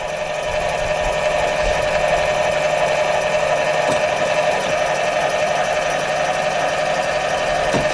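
A steady electric motor whine and hum runs for the full stretch from an RV leveling jack motor while the RV is packed up, constant in level and close by, with one faint tap near the end.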